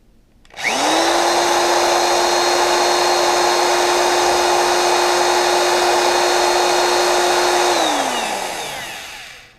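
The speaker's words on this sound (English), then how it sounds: "now we're going to try a Black & Decker power drill." A Black & Decker electric power drill, powered by a portable power station, whirs up to speed, holds a steady high whine for several seconds, then winds down.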